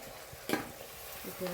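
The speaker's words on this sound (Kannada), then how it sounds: "ಈಗ ಚಿಕನ್ ಹಾಕೊಳ್ಳೋಣ" A brief soft sizzle with a couple of clattering stirs as chicken goes into a pan of onion tempering, close and moderately quiet.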